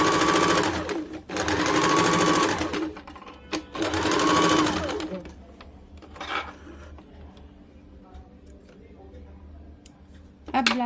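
A sewing machine stitches a blouse seam in three loud, steady bursts of rapid whirring. Quieter handling and rustling of fabric follow.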